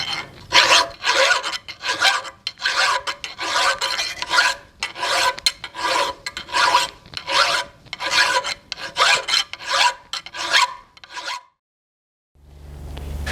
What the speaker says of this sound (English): smooth and round over those sharp corners with a metal file